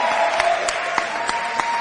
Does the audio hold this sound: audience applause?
yes